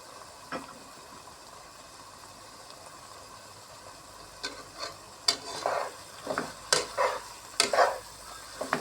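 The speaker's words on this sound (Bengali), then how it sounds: "এখন আমার তেলটা ফুটে আসছে এখন আগে থেকে বেজে রাখা যে পেঁয়াজের পেস্তাটা রেখেছিলাম সেটা এখন এর সঙ্গে দিয়ে দেব" Pre-fried onion paste is added to hot oil and sautéed: a low, steady sizzle at first, then a run of louder bursts of scraping and spitting as the paste is stirred around the pan.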